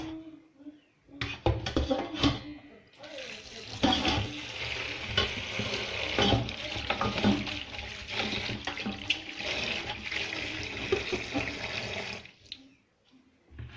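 Tap water runs steadily for about nine seconds while pigtails are washed in a kitchen sink for Jamaican stew peas, with splashing and handling noises over the flow and brief quieter moments before and after.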